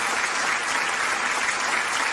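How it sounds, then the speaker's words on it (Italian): Studio audience applause at an Italian music television show, a dense steady wash of clapping filling the whole stretch at even strength, no voices on top. "facciamo un applauso."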